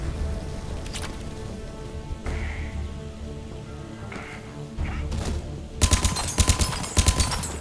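Bursts of rapid video-game gunfire from Mass Effect Legendary Edition crackle in quick clusters over a steady background hum, with a few isolated shots earlier and a dense volley near the end.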